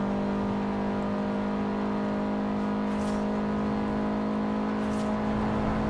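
A modified Audi S1 with a 1.6 turbo rally engine drives fast on a highway in Forza Horizon 4. Its engine drones steadily and loudly with a constant tone, and there is no talking.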